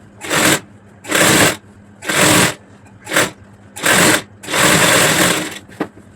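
Stitching a young girl's frock, a sewing machine runs in six loud, close bursts of a second or less each, separated by brief silences, with the final burst the longest.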